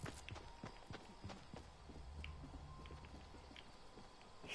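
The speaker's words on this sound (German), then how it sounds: "Ich höre andere Schritte." Other players' footsteps in Fortnite, a soft patter of steps repeating at a quick walking rhythm, faint and mid-distance amid game background noise.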